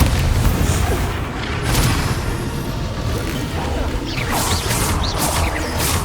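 Bombarda spell blasts in the game Hogwarts Legacy, with booming, crashing bursts over a dense roar of combat noise and whooshes, continuous and loud through the whole stretch.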